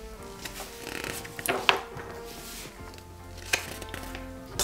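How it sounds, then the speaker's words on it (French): Pages of an instruction booklet for a 1/8-scale Pontiac Firebird KITT model kit flip quickly, giving soft papery rustles and a few sharper flicks close by, with no voices. "On va feuilleter vite fait un petit peu l'intérieur de ce fascicule."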